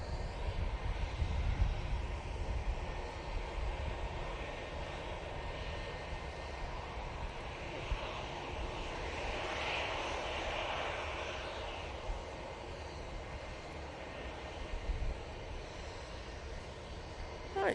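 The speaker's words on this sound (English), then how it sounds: "Got an A380, I think it's the Virgin Atlantic." A Virgin Atlantic Airbus A380 with Rolls-Royce Trent engines rumbles at Manchester Airport, a continuous deep engine roar with a rising whine swelling mid-way, then settling back, with no talk.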